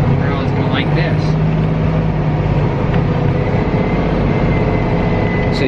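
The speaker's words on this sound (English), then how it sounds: "I have F1 full throttle right now at 10 miles an hour" A tractor engine at full throttle during tillage at about 10 miles an hour, a loud, steady, low droning roar that fills the whole clip, with voices talking faintly over it.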